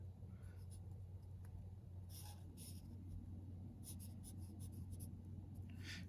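Pencil drawing on paper for a cartoon scarecrow: soft, close scratchy strokes come in short bursts over a steady low hum, with no talk.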